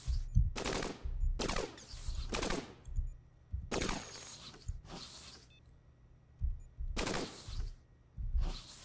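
Rapid bursts of automatic gunfire from the video game Cogmind rattle in several separate volleys, each about half a second long, loud and close over a low steady game hum.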